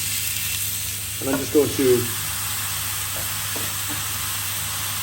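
Chard or spinach greens sizzle steadily in a hot grill pan, a constant frying hiss running throughout, with a person speaking briefly over it near the start.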